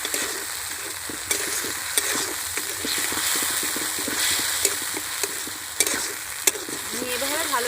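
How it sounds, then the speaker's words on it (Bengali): Masala being sautéed with whisked sour yogurt for doi katla, a Bengali fish curry: a steady sizzle and frying hiss, with repeated scraping taps of a spatula stirring the pan throughout. "আমি এভাবে ভালো করে কষিয়ে নেব"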